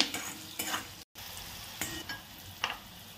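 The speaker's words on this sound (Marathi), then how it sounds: "7 ते 8 कढीपत्त्याची पानं, अर्धा चमचा हळद पावडर, हे आपण मिक्स करून घेऊ" Curry leaves and turmeric powder being stirred in a pan, with soft scraping strokes and a light sizzle coming in intermittent bursts, close and fairly quiet.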